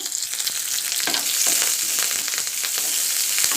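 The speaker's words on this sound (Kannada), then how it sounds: "ಈಗ ಈರುಳ್ಳಿನ ಮತ್ತು ಕರಿಬೇವು ತೊಗೊಂಡು ಅದನ್ನು ಸೇರಿಸ್ಕೊತೀನಿ ಈಗ ಇದನ್ನ ಸ್ವಲ್ಪ ಹೊತ್ತು ಫ್ರೈ ಮಾಡ್ಕೊಳ್ಳೋಣ" Onion and curry leaves frying in oil with mustard seeds in a pan for ridge gourd chutney, a loud, dense, continuous crackling sizzle up close with scattered pops and stirring.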